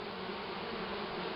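Honey bees swarm around a round sun hive in a garden on a warm August day, producing a dense, steady buzzing hum that fills the short stretch at a constant moderate level, with no voices.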